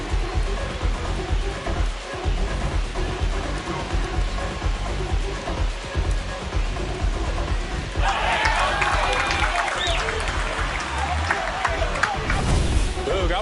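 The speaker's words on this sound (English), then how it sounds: "This crowd has really come alive." A stadium crowd in MLB The Show 26 roars after a home run, a broad wash of cheering that swells louder partway through, running under continuous play-by-play commentary.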